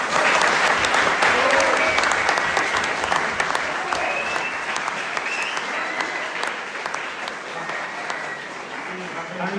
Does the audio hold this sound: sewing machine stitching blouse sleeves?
no